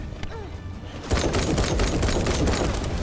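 Sustained rapid gunfire from The First Descendant bursts in after a quieter second and continues loud and dense to the end.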